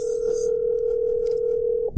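Steady telephone ringback tone heard while a phone call is being placed, holding one continuous pitch until a click cuts it off near the end.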